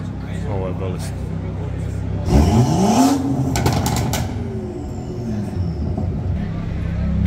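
A car engine at a garage car meet blips sharply into a single loud rev sweep that rises and falls, then settles back to idle beneath ongoing chatter.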